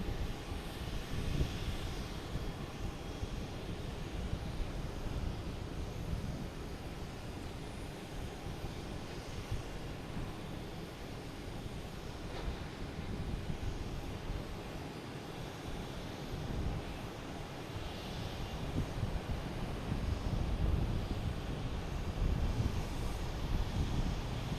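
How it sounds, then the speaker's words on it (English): A JetBlue Airbus A321 landing at Boston Logan after a flight from Montego Bay gives a steady, fairly distant jet rumble that swells toward the end, mixed with wind over open ground. "Next to arrive is a JetBlue, an A321 coming in from Montego Bay."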